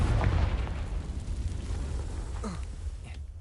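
A Confringo explosion spell in a wizarding video game bursts loud and low at the start, then rumbles and fades over a few seconds with a sharp crackle near the end.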